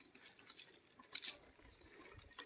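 Shallow stream water trickling near a mountain bike trail river crossing, faint and diffuse with occasional splashes, no talk heard.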